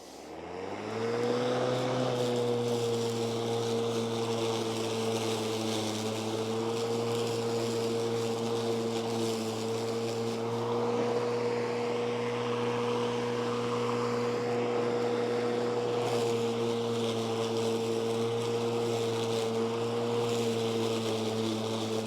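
A Ryobi lawn mower cuts through 10-inch tall wet grass: its motor spins up at the start and settles into a loud, steady, close droning hum that stays even throughout, with no talking.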